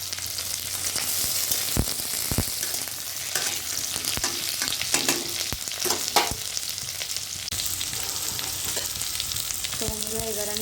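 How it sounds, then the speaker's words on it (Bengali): Cucumber pieces frying in a pan, a steady close sizzle with scattered sharp stirring clicks and scrapes throughout, no voices. "এইদিকে দেখো, কাঁকড়ি ভাজা হচ্ছে"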